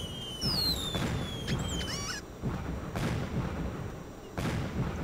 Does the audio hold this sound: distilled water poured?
no